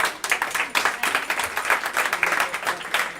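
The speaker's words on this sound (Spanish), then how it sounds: "pues Irma Vine, un aplauso para ella" Audience at a Halloween PechaKucha presentation night clapping for speaker Irma Vine, a lively, uneven patter of many hands with rising and falling bursts, moderately loud in the room.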